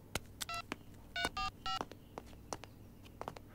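Telephone number being dialed, a quick series of distinct touch-tone beeps in an irregular rhythm with faint clicks between them in a quiet room.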